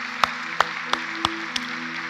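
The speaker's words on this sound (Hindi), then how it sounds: "मैं चाहता हूं एक बार अपने अभिनंदन में जोरदार तालियां बजा लें।" An audience at a student parliament event in India claps in a slow, even rhythm, with about five distinct claps over a low background hum.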